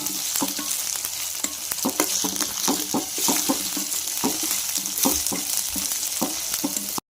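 A spice mixture with turmeric fries in a pan for a capsicum raita, a constant crackling sizzle under frequent scraping stirs and small utensil knocks, close and fairly loud with no voices.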